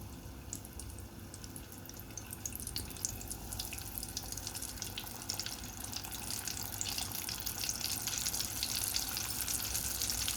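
Cornstarch-coated chicken pieces for karaage fry in hot oil with a continuous crackling sizzle and scattered pops that grow slightly busier over time. Nobody speaks.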